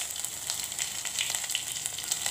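Crushed garlic sizzles steadily in hot oil for a spinach bhaji tempering, a close, continuous crackle with quick pops and spits scattered throughout and no voices over it.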